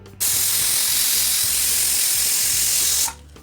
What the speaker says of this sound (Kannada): ಕುಕ್ಕರ್ ಕೂಗಿದೆ